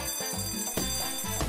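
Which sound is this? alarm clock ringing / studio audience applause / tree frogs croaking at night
alarm clock ringing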